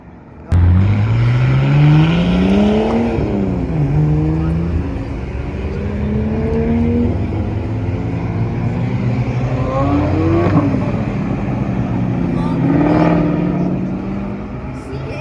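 A Nissan Skyline R34 revs and pulls away at a car meet, its engine note climbing through several gears with shifts audible, loud and close, then fading as it drives off while people talk nearby.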